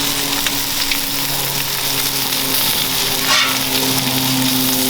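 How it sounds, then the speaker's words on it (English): Bacon fries in a pot with a loud, steady, close hiss and crackle that runs unbroken throughout, alone without any talk. "So we're putting some bacon on the pot, right?"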